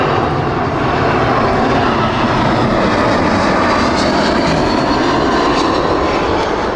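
A passenger airliner on the Naples flight roars past at Heathrow Airport, a loud, continuous, broadband jet-engine rush that holds steady across the whole stretch.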